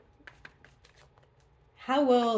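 Tarot cards being shuffled during a card reading, heard as a few soft, brief riffling taps early on before a voice begins speaking over the rest.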